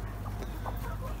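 A hen clucks inside a chicken coop, with soft, brief clucks under a constant low hum and rustling background noise.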